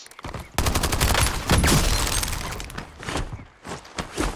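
Sniper and other gunfire in Call of Duty Warzone, a loud close burst of rapid shots and sharp cracks with shattering, followed by scattered further impacts.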